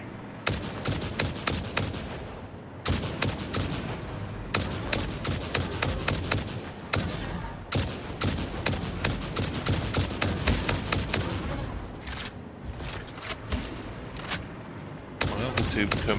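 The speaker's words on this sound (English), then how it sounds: "I have to shoot you." Gunfire in the video game Satisfactory, a dense series of sharp, loud shots in rapid succession with short gaps, continuing throughout with voices faintly beneath.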